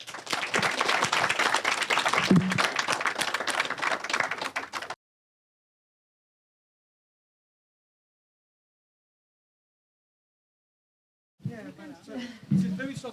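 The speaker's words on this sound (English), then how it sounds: "a big thank you, a big applause to our panel" An audience at a climate justice conference applauds its panel in a few seconds of dense clapping mixed with voices. A long silent gap follows, then a brief burst of clapping and talk returns near the end.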